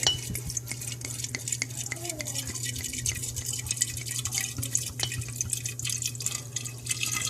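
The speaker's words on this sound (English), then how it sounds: "So I'm going to go ahead and pour this bottle" A bottle of wine is poured over brandy-soaked fruit and sugar for sangria, a close, uneven glugging trickle with small drips and clinks against the container, steady for several seconds.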